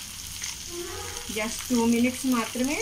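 Fish pieces frying in a pan for Andhra-style fish fry give off a steady, close sizzle that runs beneath a person speaking.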